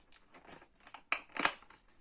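Plastic packaging of a Norev 3-inch toy car is handled and opened, giving soft crinkles followed by two sharper snapping clicks, quiet and close.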